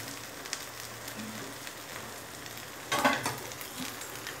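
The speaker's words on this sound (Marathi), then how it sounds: "दोन्ही बाजूने छान भाजून घ्यायचं असं" Pav buns coated in pav bhaji masala roast on a tawa with a faint, steady sizzle, and a brief louder crackle comes as a bun is pressed or turned on the hot griddle.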